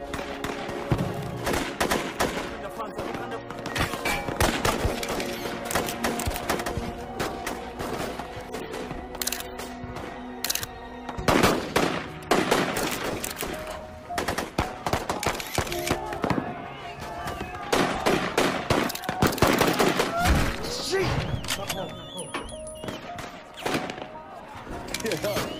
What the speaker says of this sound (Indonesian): Baku tembak pun terjadi.